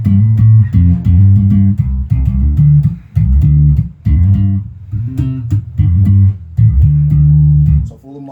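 An electric bass guitar with its pickups switched in series and in phase plays a steady, continuous line of deep, round notes, loud and close with no talk.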